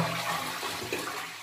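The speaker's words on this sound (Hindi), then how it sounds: "पानी देख सकते हैं आप लोग इसमें चल रहा है" Water runs steadily and fairly loud inside an overflowing toilet cistern, a continuous gushing, hissing flow with no talk over it.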